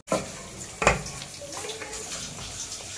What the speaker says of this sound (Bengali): এবার এটাকে আমি গামলার মধ্যে ঢেলে তোমাদেরকে দেখাচ্ছি